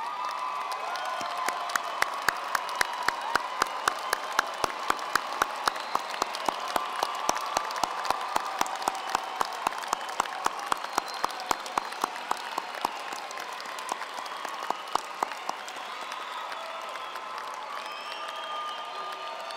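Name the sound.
graduates applauding friends and families at commencement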